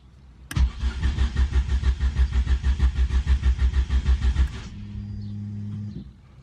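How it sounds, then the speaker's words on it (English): A Ford Focus RS Mk1 engine cranks on its starter motor in a fast, even chug of about twenty pulses over four seconds, then cuts off, leaving a brief steady hum before silence. "so put the key in, fire up a few times"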